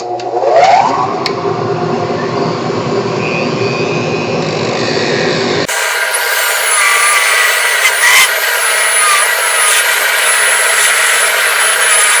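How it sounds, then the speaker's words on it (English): A Dremel rotary tool sands a fountain pen part. It gives a continuous high-pitched motor whine that shifts midway into a brighter, harsher grinding tone, held steady and close with no talking. "Okay, so we're going to just Dremel that off."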